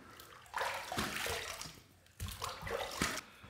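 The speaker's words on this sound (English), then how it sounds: "Let's rinse." Safety razor rinsed under a running tap, giving two bursts of splashing water with a short pause between them, close and fairly quiet.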